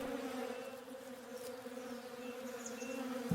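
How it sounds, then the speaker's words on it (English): Bees buzzing in the video game Above Snakes, a continuous steady droning hum with no pauses. "Oh, bees."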